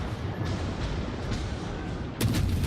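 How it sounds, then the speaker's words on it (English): Destroyer gun salvos in a naval battle game, with the Fletcher-class destroyer involved: a steady rumbling roar of distant gunfire throughout, then a sharper, louder burst of shots near the end. "First salvo goes a little wide, second salvo getting some good hits"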